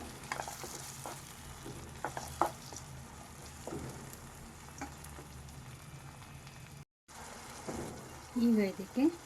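Tomato puree frying in a pan for egg kadai masala, a soft, continuous bubbling sizzle with light spoon scrapes, fairly quiet, briefly cut off, then a short voice speaking at the end.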